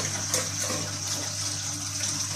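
Water running steadily from a tap while being collected in a container: a constant, close rushing and splashing with no pauses.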